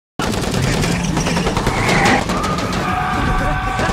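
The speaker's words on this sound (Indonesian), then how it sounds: "Kemudian terjadilah saling baku tembak." Gunfire is exchanged during a raid on a hideout in an action film, with dense rapid shots and bursts over a loud, continuous roar of action and impacts that swells briefly midway.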